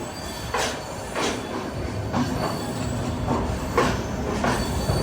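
The Chennai Mail train pulls out of Thiruvananthapuram Central, with rhythmic wheel clatter over rail joints and occasional squeals, heard from on board at moderate loudness.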